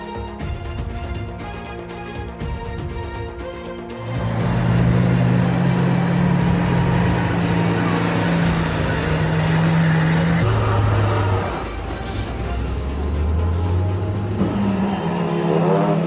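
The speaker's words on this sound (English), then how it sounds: "This is definitely a nightmare for heavy truck drivers going uphill" A heavy truck's engine labouring uphill: a loud, deep drone whose pitch rises and falls as the load shifts, after a few seconds of music at the start.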